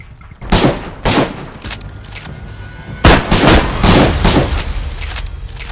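Enemy gunfire in the survival game DayZ: several sharp shots ring out in two clusters, the first as spaced single bangs, the second a quicker volley of loud, close reports, with no talk over them.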